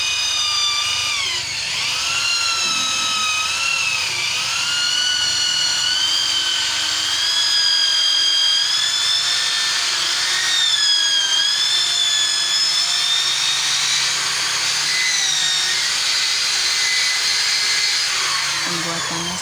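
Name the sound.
power drill drilling a bird cage part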